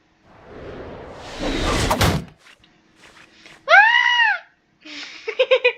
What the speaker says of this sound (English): I gave him a very manly scream